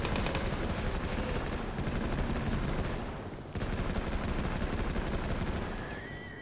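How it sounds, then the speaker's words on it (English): Sustained machine gun fire in Rimworld during a mechanoid raid, a dense continuous rattle with one brief break midway and no voices. "Now get on that frickin' machine gun."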